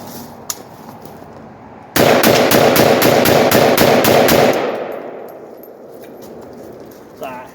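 AK-47 rifle firing a fast burst of about ten loud, close shots in quick rhythm, followed by a ringing echo that fades into quiet outdoor air, with a short sound near the end.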